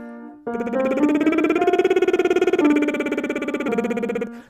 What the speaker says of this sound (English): we're going to start these exercises with a lip trill.